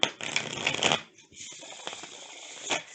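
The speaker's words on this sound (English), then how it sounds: "let me just shuffle this up a little bit" Tarot cards being shuffled at a reading table, a dense papery riffle for the first second, then softer, quieter card sliding and shuffling sounds continuing to the end.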